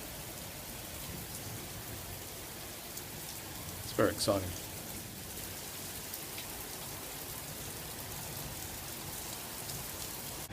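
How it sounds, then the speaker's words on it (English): Steady rain patters and hisses throughout, with a brief spoken remark near the middle; no clear thunder stands out. "It's raining quite a lot now. And there's thunder."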